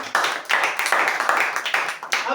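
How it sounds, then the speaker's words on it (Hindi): An audience at a religious talk applauds, a dense burst of many hands clapping that starts sharply, holds steady and continues for a couple of seconds, loud and close. "एक बार जोरदार तालियां दोनों के लिए।"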